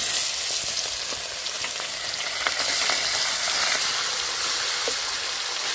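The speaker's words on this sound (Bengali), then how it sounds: "আমি কড়াইতে তেল দিয়েছি, হ্যাঁ, লবণ দিয়েছি, হ্যাঁ, হলুদ দিচ্ছি, হ্যাঁ, ভেজে নেব, হ্যাঁ, ভেজে নিচ্ছি" Parshe fish frying in hot oil with salt and turmeric in a wok, a loud, steady, dense sizzling hiss close by with faint crackles scattered throughout, no speech.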